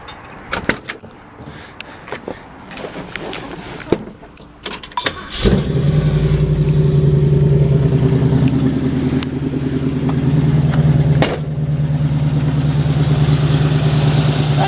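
Near and loud, a 1970 Ford Mustang Fastback with a 302 V8 comes to life after a few clicks and clunks, settling into a steady, rumbling idle that holds until the end.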